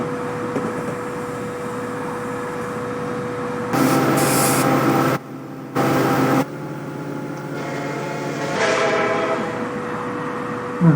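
Pacific Surfliner passenger train in Train Simulator 2021 running along the coastline, a steady loud rumble and hum of rolling cars with a constant tonal drone, briefly swelling louder and dropping out twice midway.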